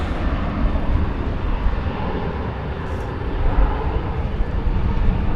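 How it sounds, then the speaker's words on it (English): American Airlines Boeing 737-800 departing at night from DFW Airport, a loud, continuous roar of jet engines that stays broad and rumbling throughout, with no voices. "It's American Airlines 737-800."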